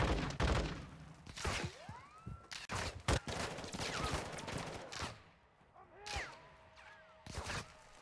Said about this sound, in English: where is that shooting?